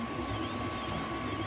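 An Ender 3 3D printer runs steadily, giving off a low, even motor hum with a constant high whine and faint mechanical texture, quiet and continuous throughout.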